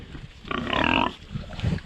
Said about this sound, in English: Fritz, the little potbelly pig, he's a boar.